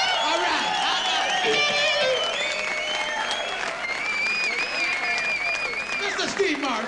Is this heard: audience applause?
yes